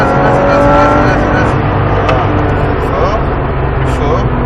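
A Porsche 997 accelerates in third gear on the Mettet race track, its engine a loud, steady roar filling the whole stretch while an instructor talks over it.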